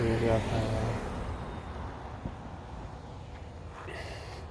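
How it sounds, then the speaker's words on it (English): Highway traffic jam: a steady, broad rumble of road noise from idling and creeping vehicles, fairly close and continuous, with a brief harmonic sound near the start. "There's a traffic jam."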